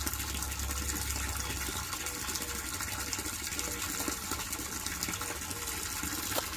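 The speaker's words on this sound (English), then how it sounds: "filling up their pond so they'll be happy" Water pours steadily and loudly into a backyard pond, a continuous gushing and splashing that holds at the same level throughout, with no voices.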